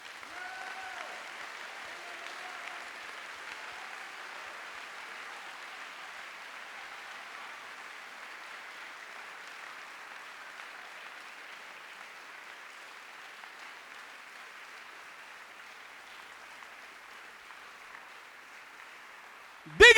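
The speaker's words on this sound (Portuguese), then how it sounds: "Aplaude agora para você ver." A church congregation applauds in a steady, moderately quiet wash of clapping that lasts about twenty seconds, with faint voices underneath, before a sudden loud burst right at the end.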